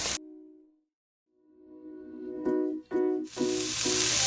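Shredded cabbage and carrots hit a hot pan and sizzle loudly, rising after a quiet start, alongside scraping stirring sounds.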